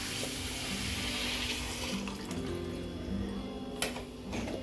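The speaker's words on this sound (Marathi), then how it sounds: "तर आता पाणी घालून घेणार आहे मी" Leftover water from making flatbreads pours steadily into a cooking pot for crab curry, a soft continuous splashing with a few light clinks, heard up close and quiet, no talking.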